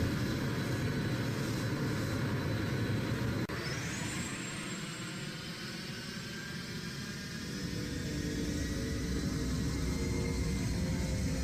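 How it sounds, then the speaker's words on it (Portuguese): A loud, steady roar of Boeing 747 jet engines fills the scene, with a rising whine as the aircraft powers up and rolls for takeoff. "Às 18h12, o 747 inicia a decolagem."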